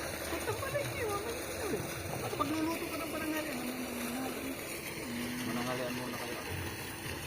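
Water splashing from the outlet of a 2hp DC surface solar water pump at a rural install, a continuous rushing splash heard from close by with people talking over it.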